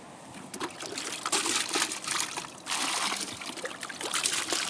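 Water trickles steadily while being collected outdoors beside a lake during a fishing trip, a continuous close splashing dribble with brief louder surges and no talk.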